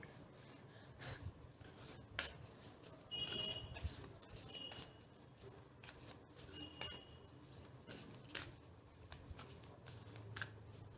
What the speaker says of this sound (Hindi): मैं इस फाइल के लिए 4 कार्ड्स पिक कर रही हूँ इस डेक से